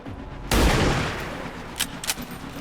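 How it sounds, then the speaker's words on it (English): A sniper rifle shot in the XCOM 2 video game, a single loud booming report that decays into a rumbling tail, followed by a few short sharp impact cracks, close and with no talking. "Fire a sniper here."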